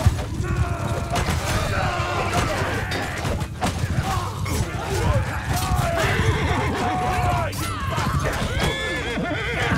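A horse whinnies loudly amid clattering hooves and busy mechanical game sounds in the video game Mount & Blade II: Bannerlord as a rider falls, with occasional speech mixed in.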